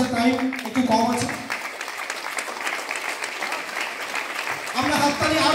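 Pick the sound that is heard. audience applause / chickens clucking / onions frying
audience applause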